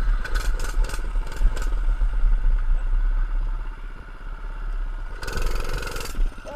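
A 105cc mini bike engine runs steadily close by, a continuous buzzy idle-like drone with a louder burst of noise near the end, and no talking.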